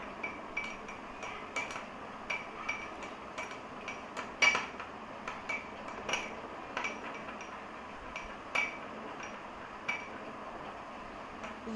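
A spoon stirs lemon juice in a bowl, giving light repeated clinks and scrapes of metal against the dish, close and quiet with no talking.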